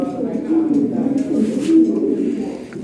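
Big male fancy pigeons, a Lahore breed at a pigeon seller's, coo in low, rounded, repeated phrases close by.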